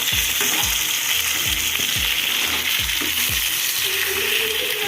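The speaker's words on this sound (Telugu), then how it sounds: "ఇప్పుడైతే చికెన్ అయితే వేస్తున్నాను చికెన్ వేసుకొని" Chicken pieces frying in a pan with garlic for a garlic chicken fry, a loud continuous hiss and sizzle close by with repeated soft thumps as the pieces are tossed.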